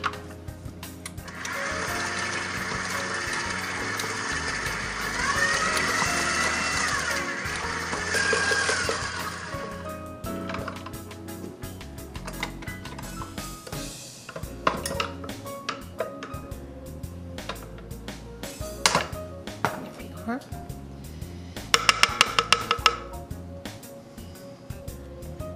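A mixer whirs steadily through cheesecake batter with heavy cream and a teaspoon of vanilla for about eight seconds, then stops, leaving scattered clinks and scraping of bowl and utensils.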